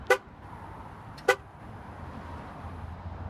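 A 2014 Jeep Grand Cherokee Limited 4x4 chirps its horn twice from the key fob remote start, two short sharp toots about a second apart over a low engine-like hum, close and loud.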